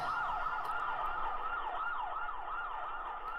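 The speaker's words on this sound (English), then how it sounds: "the second song I think we've had police sirens in" A wailing police-style siren within a song sweeps up and down steadily, rising and falling several times at a moderate, distant level.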